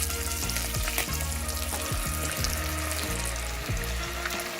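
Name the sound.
beaten eggs sizzling as they are added to the pan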